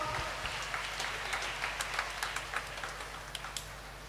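Children applauding during a Lenten retreat talk for young people, scattered uneven clapping with a few distinct sharp claps, quiet and fading toward the end over a low hum.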